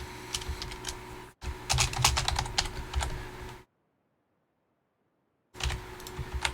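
Code typed on a computer keyboard in quick, clattering bursts of close keystrokes, broken by a short pause and a stretch of silence before typing resumes.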